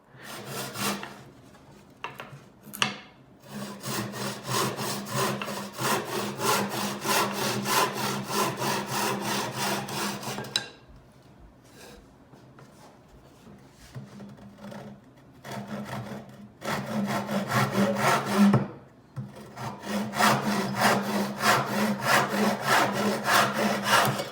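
A hand saw cuts a miter in wood in long, rhythmic rasping strokes, pausing briefly twice before resuming the steady back-and-forth sawing.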